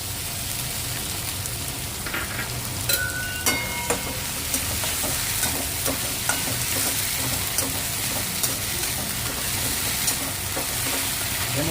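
Ginger garlic paste and onions fry in a pan with a dense, steady crackling sizzle, close and loud, broken by occasional metallic taps and scrapes of stirring.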